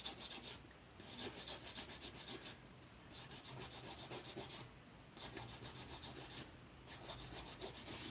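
A nail file rasps across a fingernail in four long bursts of quick back-and-forth strokes, close and fairly quiet, separated by short pauses, with no talk.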